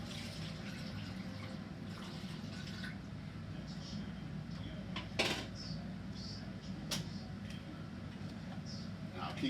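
Sea moss soaking water being poured through a strainer into a container, a soft steady trickle with a few faint clinks of kitchenware, while a person talks over it.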